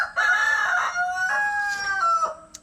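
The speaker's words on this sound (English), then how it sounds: "I'm gonna get away from these roosters because they just won't shut up" Roosters crow close by outdoors, one long cock-a-doodle-doo followed by a second overlapping call, loud and alone with no talk.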